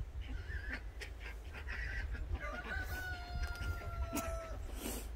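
A rooster being dosed with oral medication from a syringe makes soft clucks and strained, drawn-out calls, close by over a rumbling background.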